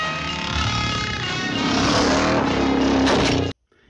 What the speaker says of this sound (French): dans ce film où il double Jean Marais lors de la poursuite à moto